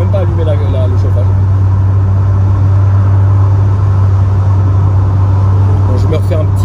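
A Renault Clio 16S engine rumbles with a strong, steady low drone, loud and close throughout, while someone talks over it.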